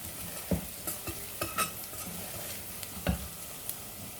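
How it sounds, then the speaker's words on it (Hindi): Turmeric, coriander and red chilli powder frying with ginger garlic for a Sindhi cauliflower-potato dish, with a few distinct spatula scrapes over a low sizzle, close and moderately quiet. "अब इन्हें भी भून लेते हैं।"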